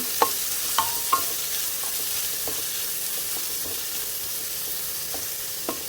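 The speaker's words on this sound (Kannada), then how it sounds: "ಈರುಳ್ಳಿಯನ್ನು ಟ್ರಾನ್ಸ್ಪರೆಂಟ್ ಆಗುವವರೆಗೆ ನಾವು ಇಲ್ಲಿಗೆ ಇದನ್ನು ಫ್ರೈ ಮಾಡಿಕೊಳ್ಬೇಕು" Chopped onions frying over high heat in a pan for a Kannada-style sprouted-bean palya, giving a steady soft sizzle broken by a few sharp clicks of a spatula scraping and stirring, close and with no voices.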